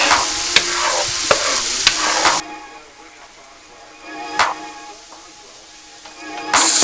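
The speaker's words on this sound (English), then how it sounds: "Try to get the butter and garlic mixed in." Garlic cooking in melted butter alongside marinated chicken, with a loud close sizzle and sharp stirring taps in the first seconds; the sizzle then softens before flaring up again briefly at the end.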